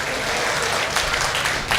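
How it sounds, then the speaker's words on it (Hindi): Audience applause rolls through a hall at an international mushaira poetry recital in Mumbai, a steady wash of clapping from many hands for nearly two seconds with no voices. "जरा और जोरदार तालियां आनी चाहिए थी इस पर।"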